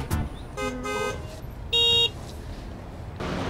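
Car horns honk in a traffic jam: two sustained blaring horn blasts in quick succession, the second sharper and louder, over a rumbling street background.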